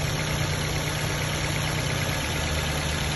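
A steady, continuous Perodua Myvi 1.3 engine hum idling at low rumble after a top overhaul, with no talking.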